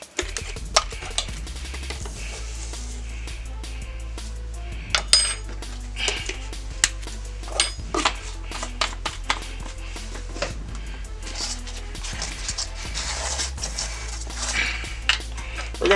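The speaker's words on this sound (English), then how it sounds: "I'm just mixing up all the seasonings together for the purpose of this video" Dry seasonings being mixed in a bowl make a close run of spoon clinks and scrapes against the dish, irregular taps that recur over a low steady background without talk.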